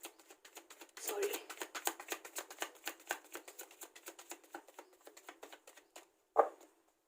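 Tarot cards are shuffled and cut one at a time, a rapid series of crisp, soft riffling flicks in a quiet room, ending with one louder snap.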